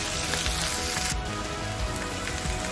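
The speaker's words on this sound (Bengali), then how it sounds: "এইভাবে সবটা সবজি তেলের উপরে দিয়ে দেব।" Cabbage and other vegetables dropped into hot oil, a dense continuous sizzle and crackle with a brief dip partway through.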